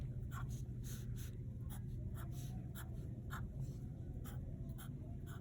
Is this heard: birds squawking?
no